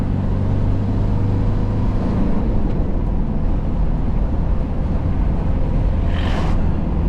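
A Kia Pregio van accelerates hard in third gear on an Indian road, its engine a loud, steady, close drone that holds for the whole stretch with no voices over it.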